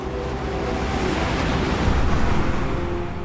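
Loud, continuous roar of large ocean waves in a huge swell in the Bristol Channel, with heavy wind buffeting the microphone throughout and no voices.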